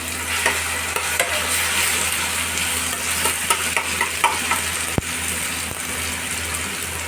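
Ginger, garlic, green chili and dried chili paste added to hot oil in a frying pan, sizzling loudly and steadily while being stirred, with scraping strokes and a sharp clink from the utensil.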